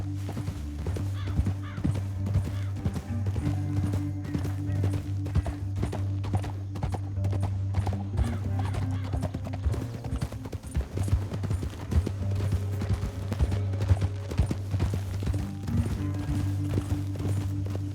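Horses galloping in Red Dead Redemption 2, a continuous rapid clip-clop of hooves under a low, droning musical score, steady and fairly loud throughout with no pauses.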